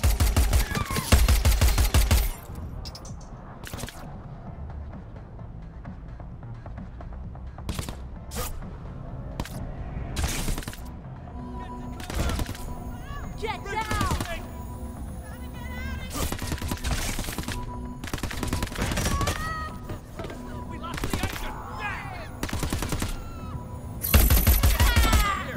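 Enemy gunfire in the video game Crackdown 3, loud bursts of rapid automatic shots and scattered single cracks in irregular clusters, with quieter gaps and game effects between them.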